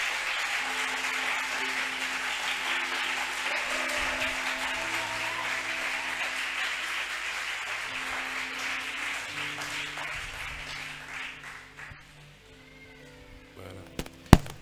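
A church congregation applauds in acclaim of the Lord at a conference, sustained dense clapping from a large crowd that gradually fades out, with a few faint voices toward the end.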